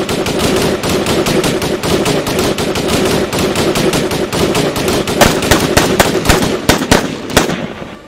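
Rapid gunfire in a narrated horror story, a dense continuous burst of loud automatic shots like a machine gun, with a few heavier separate bangs near the end.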